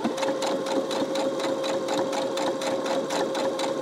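A sewing machine runs steadily on its own, the needle clattering in a fast, even rhythm of repeated stitches, close and fairly loud throughout.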